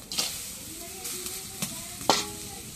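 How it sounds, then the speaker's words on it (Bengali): Green chili, onion and dried fish sizzle in a frying pan, a close soft hiss broken by a few sharp clatters and scrapes as the pieces drop in and get stirred. "এখন কাঁচামরিচ কাটা, পেঁয়াজ কাটা দিয়ে দিই, করে শুটকি গুলো দিয়ে দিই।"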